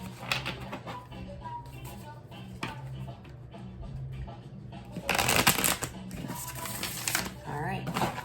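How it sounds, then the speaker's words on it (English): A deck of cards is shuffled twice close by, quick riffling flutters, the second one louder and longer, with a voice speaking between them. "I'm going to do 2 shuffles here."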